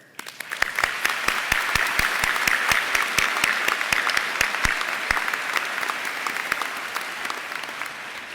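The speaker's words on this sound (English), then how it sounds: "Please join me in giving these incredible people the applause they deserve." Audience at a Georgia Gwinnett College spring commencement ceremony breaks into sustained applause, many hands clapping with a few sharp nearby claps standing out, steady and loud before gradually thinning toward the end.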